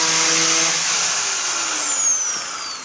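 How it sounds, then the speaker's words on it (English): A grinder fitted with a wire wheel strips paint from the body of a 1967-76 Mopar A-body Dart, giving a loud, continuous whine that slowly drops in pitch as it spins down. "if you are using a grinder with one of these wire wheels on it like I am"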